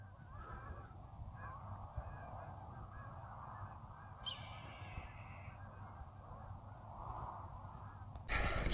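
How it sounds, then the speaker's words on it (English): Geese and ducks on a pond, repeated honking calls from a flock heard at a distance over a low rumble of wind, continuing in overlapping bursts until an abrupt louder noise near the end. "came to this pond and scared a bunch of ducks and geese off of it"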